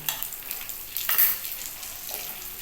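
A semolina paratha mixture with a little salt and sugar fries in ghee in a pan, soft sizzling and scraping stirs rising and falling over a few seconds, no talking.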